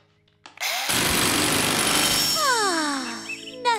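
Cartoon drill zapper gadget from Enchantimals, starting with a harsh loud mechanical whirring and rattling, then shifting into descending zapping sweeps and ending with a short burst.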